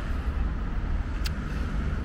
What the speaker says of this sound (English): Excuse the noise, guys, because I am by a really, really busy road.